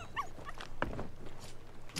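A pet dog aboard a pirate ship in the Sea of Thieves game gives a few short barks and a whimper amid faint background game sounds.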